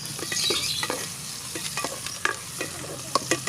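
Native chicken with ginger is stirred in a pan over a wood fire in an outdoor kitchen, a low sizzle punctuated by irregular scraping and clacking strokes of the spoon, near and without speech.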